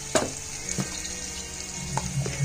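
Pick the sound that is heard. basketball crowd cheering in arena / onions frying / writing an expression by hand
onions frying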